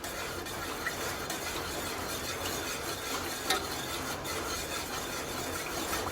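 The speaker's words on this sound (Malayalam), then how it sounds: "ഇങ്ങനെ കൈവെക്കാണ്ട് ഇളക്കി കൊടുക്കണം." Dragon fruit pudding mixture stirred in a pan, a soft continuous scraping and faint bubbling hiss at moderate distance, steady for several seconds with no voices.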